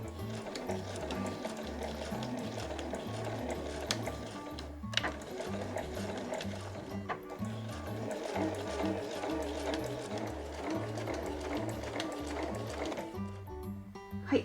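A sewing machine runs steadily while stitching a small round patchwork coaster from fabric scraps, its rapid rhythmic needle chatter continuous and close with brief pauses as the cloth is slowly turned.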